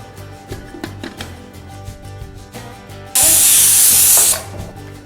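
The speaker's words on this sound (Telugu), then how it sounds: "ఇప్పుడు మనం కుక్కర్ మీద మూత పెట్టేసుకొని రెండు విజిల్ వచ్చేంత వరకు ఉడికించేసుకుందాం" A pressure cooker cooking pongal lets out a loud steady hissing whistle for about a second, rising abruptly over quieter kitchen clatter and dying away.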